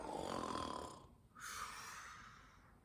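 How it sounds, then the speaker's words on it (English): A single loud snore, a raspy rough inhalation that fades, then after a short pause a second breathy snoring exhale, heard close and alone without talk. "He let out a loud snore."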